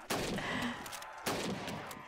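Two loud, sharp gunshot bursts about a second apart, each with a short ringing tail, fired from a gun in Black Ops 3 Custom Zombies on a Grove Street map.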